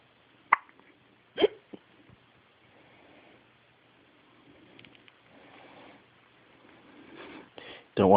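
A baby hiccuping, a few sharp, isolated hiccups spaced more than a second apart, close and fairly quiet, with soft rustling in between and a louder sound at the very end.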